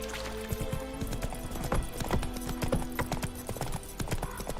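Roach, a horse in The Witcher 3, gallops with steady, rapid clip-clopping hooves close by, the drumming rhythm continuing throughout over a faint outdoor game ambience.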